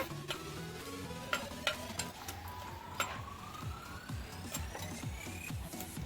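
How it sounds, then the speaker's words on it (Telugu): A few dried red chillies fry in a little oil in a clay pot, a soft sizzle broken by sharp stirring clicks and scrapes, while a faint rising siren-like whine runs behind. "నాలుగు వట్టిరపకాయలు కొంచెం నూనె వేసి వేపుకోవాలి"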